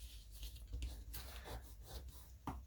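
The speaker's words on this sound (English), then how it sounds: "fold it back on itself again on the inside, give it a good burnish" Cardstock folded into a creased tab gets burnished with a tool, making a quiet, close series of short dry rubbing strokes in an irregular rhythm.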